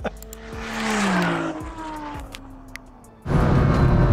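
A 1900bhp Nissan GTR accelerates hard with rising engine tones, gear shifts and tire squeal, building then receding into the distance before a loud roar or gust of noise cuts in at the end.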